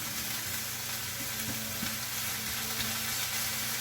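Chicken sizzling steadily in a hot pan as tongs stir it around for a rice noodle dish, a dense continuous fry with occasional light scrapes and no voices.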